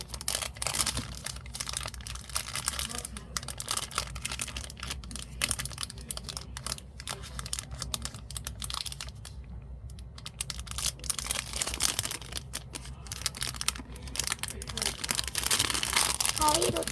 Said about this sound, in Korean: 이제 마지막 얘를 뜯는 건데 여기에도 뜯는 거지.